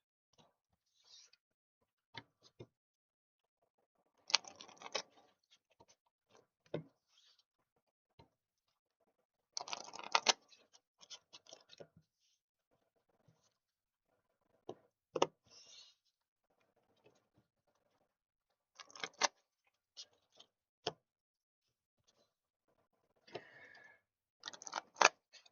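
Playing cards being shuffled and mashed together before testing opening hands in a card game, heard as quiet, intermittent riffling bursts and snaps separated by near-silence.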